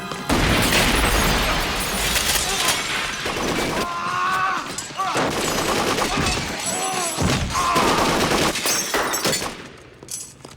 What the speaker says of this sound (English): All of that gunfire and no blood.